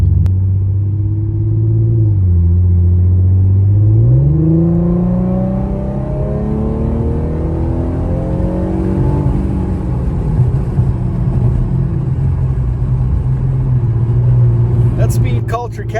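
Supercharged 3.7-litre Infiniti Q50 with a Speed Culture catback exhaust, a deep steady rumbling idle close by that rises in pitch for a moment, then settles into a continuous low drone.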